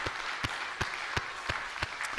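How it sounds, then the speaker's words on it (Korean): A church congregation applauding during a Sunday worship service, a soft, fairly distant wash of many hands clapping with a few sharper rhythmic claps standing out, no talk. "하나님께 영광의 박수를 한번 드리겠습니다"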